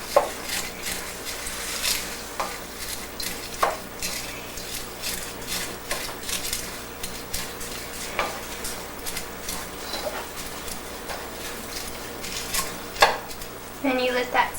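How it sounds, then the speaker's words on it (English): Cellophane noodles are stirred into a simmering soy sauce in a pan, with steady sizzling under repeated utensil scrapes and clinks against the pan throughout, near and fairly loud. "while it's simmering, you should add the cellophane noodles from before. And mix it all together."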